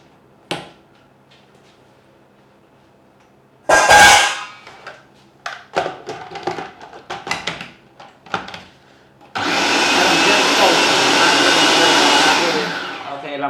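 Food processor pulsing lentils for a high-protein burger: short sharp motor bursts and scattered chopping noises, then a longer sustained whirring run at the end, loud and close with no talk over it.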